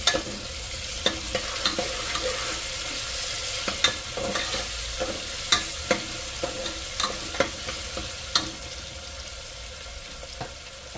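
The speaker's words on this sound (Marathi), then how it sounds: "पुन्हा एकदा छान प्रकारे मिक्स करून घेऊया" A spoon stirs onion and tomato with salt in a frying pan for a green pea curry, rhythmic scraping knocks repeating over a continuous soft sizzle, close and steady with no talking.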